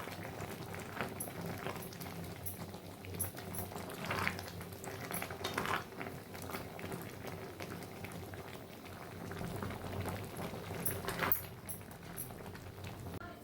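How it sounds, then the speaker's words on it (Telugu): Tomatoes for tomato pachadi simmer in a pot with a soft, steady bubbling and popping, quiet and close, continuing without pause. "ఇదంతా బాగా ఉడకాలండి టమాటాలు అంతా."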